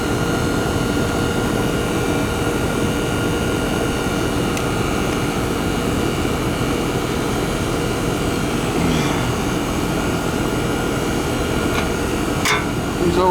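An American Standard AC condenser compressor runs in a steady, loud, unbroken drone with a rumbling low end, constant throughout, with a couple of faint ticks near the end and no talk.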